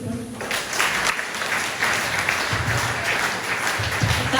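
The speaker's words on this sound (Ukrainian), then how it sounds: "Оплески!" Applause from an audience at a business forum celebration in Ternopil, a steady, dense clapping wash that continues for several seconds at moderate loudness, with a faint voice underneath.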